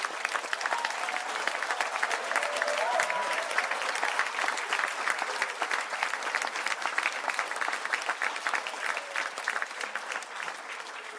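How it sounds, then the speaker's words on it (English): Sustained applause from a large audience for graduates at a university conferring ceremony fills the hall, a dense, even wash of clapping continuing for over ten seconds before thinning slightly at the end. "I think that deserves one more final round of applause for all the graduates."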